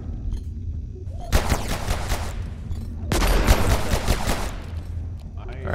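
Gunfire from Abiotic Factor comes in two dense automatic bursts, each lasting about a second or more, loud and close, with quieter game sounds in between.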